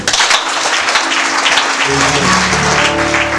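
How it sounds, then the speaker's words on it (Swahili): Wedding guests at a ceremony clap together in a short burst of applause that fades out, leaving a low hum of music or amplification underneath. "Situmpige makofi"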